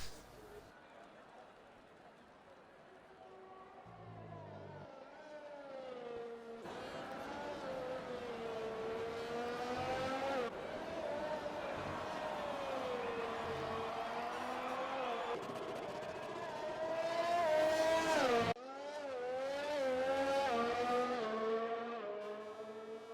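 Racing cars on track during a qualifying session of a Formula-style racing video game at the Mexico circuit, with rising and falling engine whines passing and shifting throughout, while a commentator talks over them.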